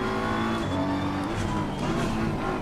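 An open-wheel race car's engine drones loud and steady on a track, its strained harmonic whine holding close throughout with slight shifts in pitch.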